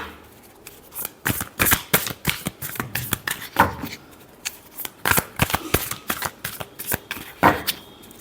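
Tarot cards being shuffled by hand, a close series of crisp riffling bursts and soft slaps in an uneven rhythm, with no voice over it.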